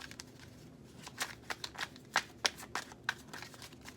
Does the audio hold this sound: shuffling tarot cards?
yes